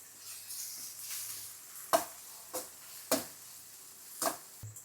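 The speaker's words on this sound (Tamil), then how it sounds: "வெங்காயத்தை ஆட் பண்ணிட்டோம். பாருங்கள், அடுப்பை சிம்மில் வச்சு கூட நீங்கள் வதக்கலாம்." Chopped onions sauté in a pan over low heat for wheat-flour noodles, with a soft continuous sizzle. Several sharper scraping and stirring strokes come at irregular intervals.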